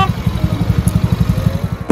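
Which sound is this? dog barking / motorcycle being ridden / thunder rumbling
motorcycle being ridden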